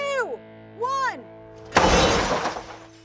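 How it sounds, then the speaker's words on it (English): Car glass shatters loudly when an M14 rifle shot goes through it into stacked phone books, a sharp burst that decays into trailing crackle after two voiced calls of a countdown. "take aim with the mighty M14"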